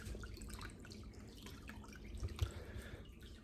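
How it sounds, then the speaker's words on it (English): Gasoline flowing and dripping from a line, a soft trickle with scattered faint drips, quiet and close, no talk. "we have gasoline flowing"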